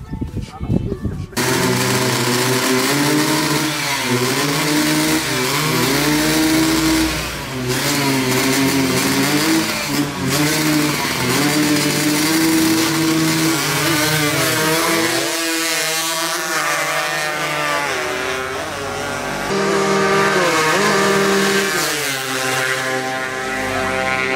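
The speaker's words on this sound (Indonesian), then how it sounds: "gimana motor ini disetting lah dikit-dikit sama suaranya itu" A tuned carburetted motorcycle engine revs hard and close at a workshop, its throaty note climbing and falling repeatedly through sustained blips of the throttle.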